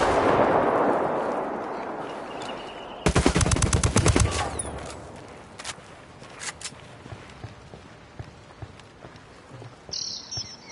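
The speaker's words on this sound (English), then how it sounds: "I called the rebels for some indirect fire" Rebel indirect fire support in the Ghost Recon Wildlands video game beta: after a rushing swell, a loud rapid string of impacts and shots hits, followed by scattered distant booms and pops.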